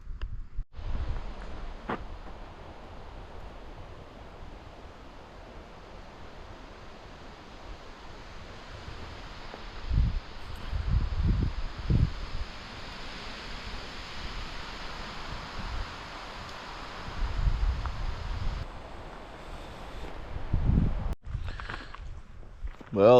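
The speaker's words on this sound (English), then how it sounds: "It'd be nice if the wind just calmed down, or went the way that I expected it to go." Strong wind gusting and roaring across a wilderness campsite on North T Lake, swelling in repeated bursts of buffeting low rumble, loud and close, with a brief voice near the end.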